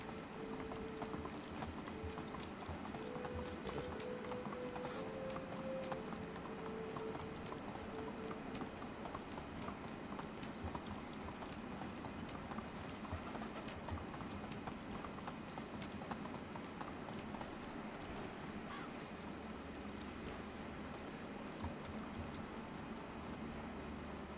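Steady rapid hoofbeats of a horse galloping in the medieval video game Medieval Dynasty, a continuous rhythmic clip-clop running throughout over faint ambient background, fairly quiet in the mix.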